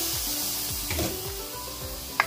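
Coconut milk goes into a hot pan of sautéed bamboo shoots and sizzles steadily, with a few light scrapes and one short clink near the end.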